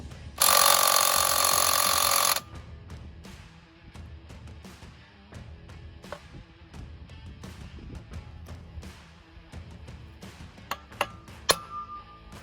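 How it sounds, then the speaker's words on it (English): A loud, harsh burst of an impact wrench hammering for about two seconds while removing a car driveshaft universal joint, followed by scattered metallic clinks and taps of tools. "let's hope this impact will do it"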